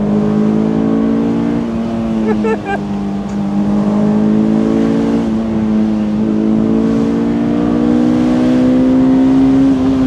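A 2006 Honda S2000 engine revs steadily toward its 8000 RPM redline, a loud, sustained rising whine with climbing harmonics heard up close from inside the car, with brief clicks partway through.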